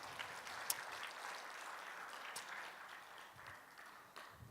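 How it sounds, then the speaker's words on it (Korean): A church congregation claps briefly during a Sunday sermon, a soft, diffuse patter of many hands heard faintly and fading out over a few seconds. "박수 한번 치주세요."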